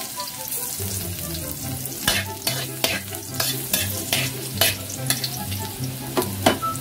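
Chopped garlic sautéing in a frying pan, the base for a Filipino sardines dish, hisses in a steady close sizzle, with a string of sharp spatula scrapes and clacks against the pan as it is stirred. No one speaks.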